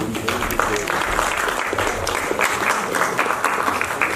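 An audience at a stage play claps continuously and fairly loudly, a dense even applause, while a voice talks over it in Hindi.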